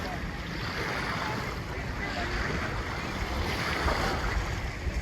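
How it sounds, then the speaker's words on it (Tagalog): Strong wind at sea off Subic buffets the microphone in a steady roar, with surf-like rushing throughout and no clear voices. "Malakas na yung hangin."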